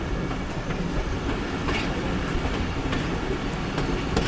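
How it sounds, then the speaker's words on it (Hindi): A locomotive-hauled train rolls past near a tunnel mouth on a railway by the Afghan–Pakistan border, giving a steady, loud rumble of wheels and cars with faint rhythmic clatter throughout, no voices. "ये देखें जी लोकोमोटिव दाखिल हो चुका है"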